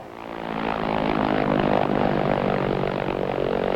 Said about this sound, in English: Transports of the Royal Canadian Air Force and planes lent by the Italian Air Force now take over the airlift from the Swiss.